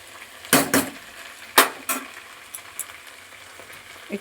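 Methi greens and beans fry in a pan while being stirred, with a few sharp bursts of scraping and sizzling followed by fainter clinks and crackles.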